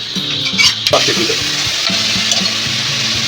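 Masala frying in a pan for sambar, with a steady close sizzle and sharp scraping strokes from stirring, alone with no talk.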